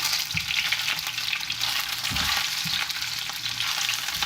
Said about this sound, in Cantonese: 呢度又係1分鐘煎佢。